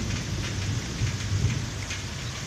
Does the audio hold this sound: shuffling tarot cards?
no